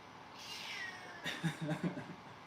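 A big cat meows angrily from behind a closed door, a cluster of several rising, muffled yowls arriving after a moment of background hiss, moderately loud and without any talking.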